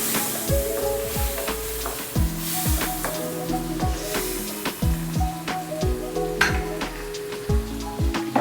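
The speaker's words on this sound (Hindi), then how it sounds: "इसे हम अच्छी तरह भूनेंगे।" Okra masala sizzles loudly in a pan, steady close frying with repeated clinks and scrapes of a spoon stirring it throughout.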